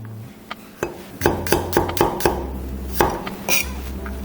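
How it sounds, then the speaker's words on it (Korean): Garlic cloves sliced into thin flat pieces with a kitchen knife on a cutting board while preparing hongshao tofu, giving a run of sharp, close knife taps at a steady rhythm with a faint background hum. "다음으로는 마늘을 편 썰겠습니다"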